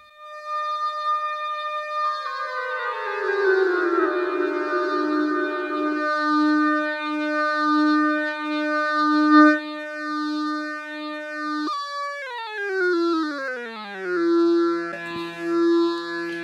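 Modular synthesizer ribbon controller playing quantized notes, sounding as stepped tonal pitches that hold and then jump between fixed notes, with a warbling sweep later on. The tones sound clean and electronic with no talking.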